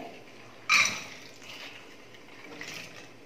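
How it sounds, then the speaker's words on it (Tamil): Washed toor dal goes into a pressure cooker, with one short wet splash and clatter near the start, then faint dripping and settling. "பருப்பு குழம்புக்கு நான் 100 கிராம் துவரம் பருப்பு எடுத்து நல்லா கழுவி சுத்தம் பண்ணி எடுத்துக்கிட்டேன். இப்போ குக்கரில் சேர்த்துக்கிறேன்."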